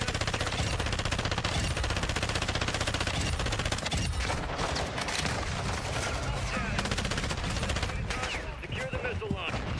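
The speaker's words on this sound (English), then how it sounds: "We're getting shot from behind." Sustained rapid gunfire in a Call of Duty Modern Warfare II Warzone match, dense automatic bursts and shots filling the whole stretch at high, steady loudness, with players talking over the shooting.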